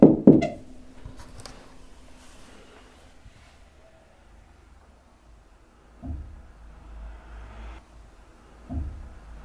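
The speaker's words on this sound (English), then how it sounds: "Just heard a knock after I tapped on the door." A few sharp knocks on a door in an abandoned house at the start, then quiet with faint dull thumps spaced out later.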